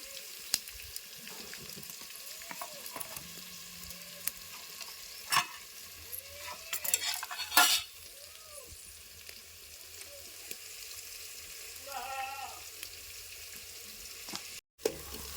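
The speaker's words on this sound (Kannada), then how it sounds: "ಉಳ್ಳಾಗಡ್ಡಿ ಹಸಿಮೆಣಸಿನ್ಕಾಯಿ ಎಲ್ಲನೂ ಎಣ್ಣೆ ಒಳಗೆ ಫ್ರೈ ಮಾಡ್ಕೋಬೇಕ್ರಿ" Onion, green chilies and peanuts frying in oil in a home kitchen, a steady close sizzle with scattered spoon stirs and scraping clinks against the pan, no voices.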